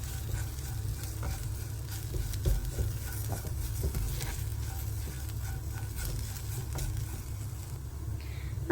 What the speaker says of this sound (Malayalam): ഈ മസാലയൊന്ന് വഴറ്റിയെടുക്കണം.